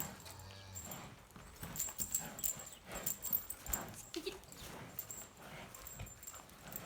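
Dog among livestock being led outdoors, giving a few faint yips and whimpers amid hoof clip-clop and general shuffling, with brief voices nearby.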